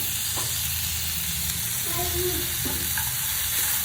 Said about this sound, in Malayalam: ഇത് നല്ലോണം നമുക്കൊന്ന് സോട്ട് ചെയ്തെടുക്കാം.